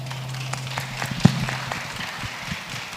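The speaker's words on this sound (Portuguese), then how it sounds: "uma salva de palmas para esses profissionais aqui" Brief, fairly light applause from an audience at a maternity-themed panel event, scattered claps over a steady background hum, with one louder clap near the middle.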